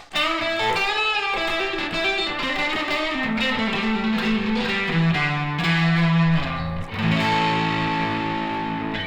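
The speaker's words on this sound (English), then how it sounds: "the Tubescreamer overdrive pedal, you can use it from anything from like blues" Electric guitar through a Tube Screamer overdrive pedal playing bluesy chords and single-note lines, warm and slightly gritty, continuous and fairly loud.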